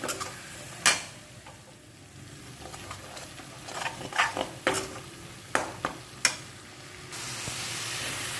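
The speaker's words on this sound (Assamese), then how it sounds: "এই যে মছলা গুড়িখিনি ভিজিয়াই থৈ দিছিলোঁ সেই গোটেইখিনি ঢালি দিম তাৰপাছত আকৌ লৰাই থাকক" Soaked masala paste frying in a pan for bhujiya sabji, a soft continuous sizzle broken by irregular scraping taps and clinks as a spoon stirs it, close and fairly quiet.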